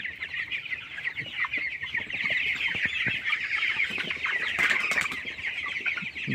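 A flock of broiler chickens clucks and chatters continuously on a poultry farm, a dense close chorus of overlapping calls with some wing flutters.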